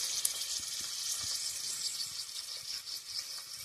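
Garlic and onion frying in a pan in a village kitchen, giving a steady, close sizzle with a bright hiss and faint crackles throughout, no voices.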